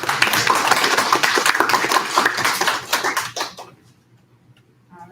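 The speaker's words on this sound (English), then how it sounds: "A round of applause for Cameron." A crowd claps for a contestant at a schoolwide elementary spelling bee, a dense patter of many hands that thins out and stops, leaving near silence.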